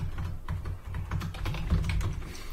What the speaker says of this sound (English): So I'll type my email here.